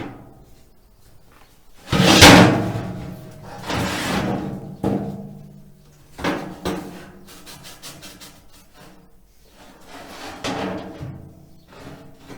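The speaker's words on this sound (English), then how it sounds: "So I'm just going to try and fit this door again." A heavy steel door is fitted into a thick-walled steel BBQ smoker, with repeated knocks, scrapes and metallic clunks at an uneven pace, close and fairly loud.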